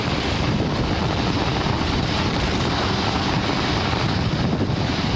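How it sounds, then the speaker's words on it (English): The Merlin engines of a Falcon 9 rocket roar during ascent on a Starlink launch, a loud, unbroken broadband rumble heard from a distance, steady and with no voices. "we're heading into the throttle bucket as we power down the Merlin engines"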